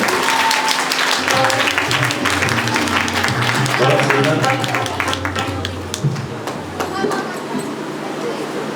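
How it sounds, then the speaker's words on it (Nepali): An audience claps loudly and continuously at a memorial ceremony for a revered guru in Nepal, dense clapping filling the first half before tapering, with a voice speaking over it. "जोरदार ताली बजाएर स्वागत"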